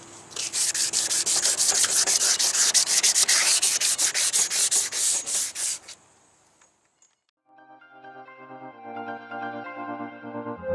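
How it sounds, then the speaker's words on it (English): Steady rubbing and scraping of wet sanding on the clear coat of a 1966 Ford Mustang coupe for several seconds, then a brief pause and a different tonal hum. "That's why I'm wet sanding it."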